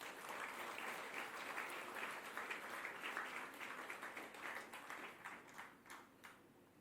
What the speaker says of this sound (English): Let's give all of you a big round of applause.